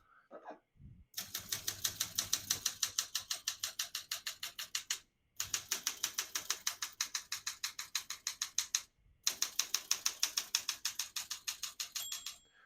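Someone types on a 1969 Olympia SM9 portable typewriter in quick, even bursts of sharp mechanical key clacks. Two brief pauses split the close, crisp rhythm.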